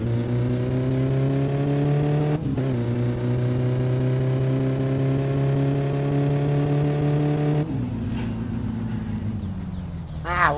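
A Satsuma car engine in the game My Summer Car drones loudly and steadily, its pitch slowly climbing. It dips briefly, cuts out near the end, then comes back with a short rising rev.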